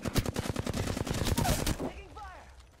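Rapid automatic gunfire from the video game Apex Legends rattles in a dense, fast burst for almost two seconds, then cuts off, leaving faint ringing effects in the background.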